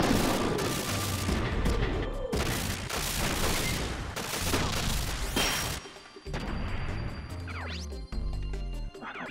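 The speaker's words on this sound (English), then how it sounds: "This guy's also shooting Marcus." Gunfire in the mech war game Front Mission 3: dense, loud volleys of rapid shots and heavy impacts rolling on for several seconds, ending in a few booming blasts, with no talk.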